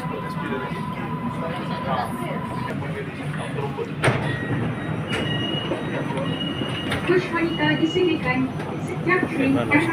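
Aboard a Kuala Lumpur rail line heading to Muzium Negara station, a steady rolling hum and rattle of the moving carriage runs throughout, with occasional squeals, clicks and chimes, while people talk over it.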